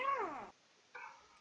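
A person in VRChat imitates a cat's meow with two short voiced mews, the first longer and falling, the second softer after a brief gap, close and clear.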